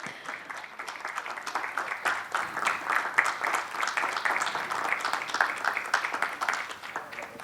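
A conference audience at a training summit gives a steady, moderately loud round of applause for a panelist, continuous clapping from many hands with no talk over it.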